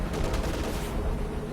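105mm howitzer artillery barrage in Company of Heroes 2, dense rumbling rapid impacts layered over each other, loud and continuous with no talk.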